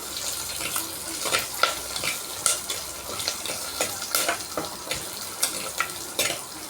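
Garlic sautéing in a little oil in a pan, giving a steady close crackle with scattered sharp pops and occasional stirring scrapes, no talking.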